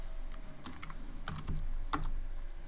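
Keystrokes on a computer keyboard while entering Python Tkinter code, a few scattered taps followed by a quicker cluster, close and clear over a quiet room.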